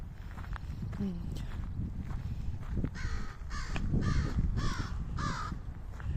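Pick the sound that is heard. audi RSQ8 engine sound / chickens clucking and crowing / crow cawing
crow cawing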